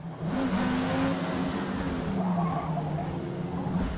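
A Porsche 718 Cayman GTS engine in Forza Motorsport, a sustained loud droning roar with shifting pitch as the car accelerates through a race, with some tyre noise and no talking.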